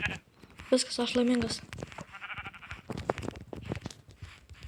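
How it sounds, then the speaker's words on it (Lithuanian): Sheep bleating in the Minecraft video game, a short wavering bleat near the start followed by softer game sounds, with a voice talking over it. "Avis!"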